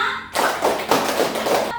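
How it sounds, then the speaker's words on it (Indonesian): A group claps together in a classroom during a Catholic religious education lesson, a short burst of fairly rhythmic hand claps lasting under two seconds and sounding close. "tepuk tangan untuk kita semua"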